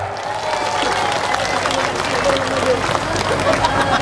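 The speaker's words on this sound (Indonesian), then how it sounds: "Buat relawan semua, tepuk tangan yang meriah." A large outdoor crowd at an Aceh rally and group walk applauds the volunteers, with dense, steady clapping and cheering mixed with crowd babble throughout.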